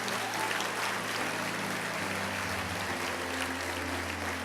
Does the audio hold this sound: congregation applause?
yes